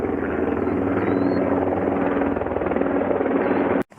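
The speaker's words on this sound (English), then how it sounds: "some military helicopters went over" Military helicopters thump and drone loudly overhead, a steady whirring roar that holds throughout before cutting out abruptly at the end.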